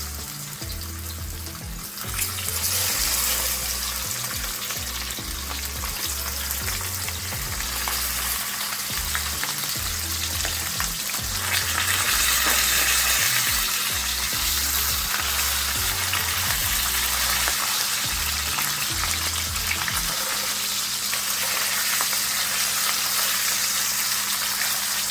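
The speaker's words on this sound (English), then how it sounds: "Add the fish to the pot." Fish sizzles steadily in a pot of hot oil for Jamaican brown stew fish, a loud continuous frying hiss with crackling spatter and occasional low knocks, no voices.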